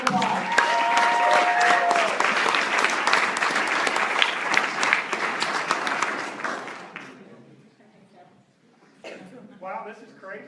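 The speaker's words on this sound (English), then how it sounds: "Please give them a round of applause." A conference audience gives a round of applause to speakers: loud, dense clapping holds steady for about seven seconds, then fades out, followed by scattered talk.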